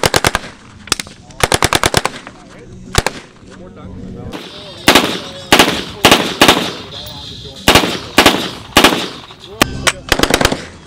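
A machine gun fires in repeated short bursts of rapid shots, loud and close, separated by brief pauses, with a few voices heard faintly between the volleys.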